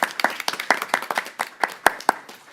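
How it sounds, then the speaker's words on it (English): A council-meeting audience claps for the Ferndale Winter Guard: a brief, moderately sparse round of individual hand claps with distinct sharp hits and no talking. "Let's give them a clap for that."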